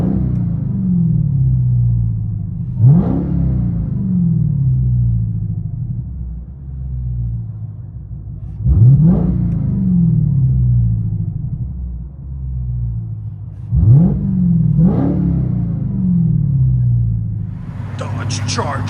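Inside the cabin of a straight-piped, supercharged 6.2-litre Dodge Charger Hellcat Redeye widebody, the engine rumbles steadily and is revved hard three times at intervals, each rise loud and booming before it falls back to idle.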